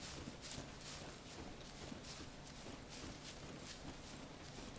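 Footsteps through brush in a survival video game, a steady rhythmic crunch of walking under constant blowing wind, faint and evenly paced.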